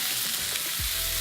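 Steak sizzling hard in a hot pan with butter, a steady close crackling hiss running through the whole moment with no voices.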